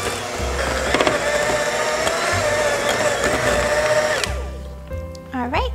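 An electric mixer whirs steadily and loudly as it beats soft cream cheese with cinnamon and sugar for mini eggnog cheesecakes, then cuts off near the end.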